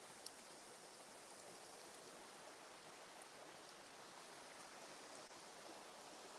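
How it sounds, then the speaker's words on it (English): A waterfall makes a constant, even hiss of falling water that sounds fairly distant and soft, with no talking. "More waterfall."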